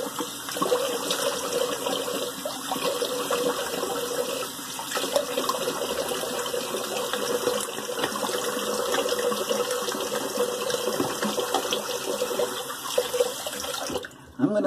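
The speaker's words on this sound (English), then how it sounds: "let's do a cold water rinse." Cold tap water runs into a bathroom sink for a face rinse after a wet shave, a continuous splashing stream at moderate level that cuts off abruptly near the end.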